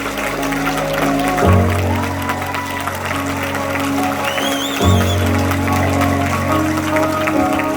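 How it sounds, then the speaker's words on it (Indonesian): An audience at a forum event gives sustained applause, a dense steady clapping that fills the whole stretch over a low droning background. "tepuk tangan dong Umi Waidah dan juga Dena Aura."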